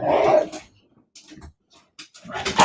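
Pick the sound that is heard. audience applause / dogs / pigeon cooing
dogs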